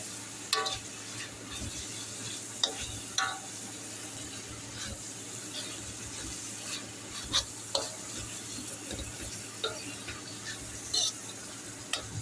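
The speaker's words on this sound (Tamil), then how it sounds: "கிளறி வச்சோம்னா, இப்போ எல்லாம் நல்லா வதங்கிடுச்சு" Sautéed ridge gourd peel chutney ingredients are stirred in a pan, with a soft steady sizzle under repeated scraping and clinking strokes of the spoon against the pan, close by.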